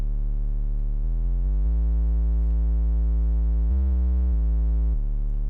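A deep, steady synth bass playing a few sustained notes with clean, buzzy harmonics, loud and alone.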